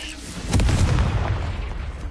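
A Confringo spell explosion in Hogwarts Legacy, a sudden deep boom with a crackling burst that rumbles on and slowly fades, loud and close amid combat.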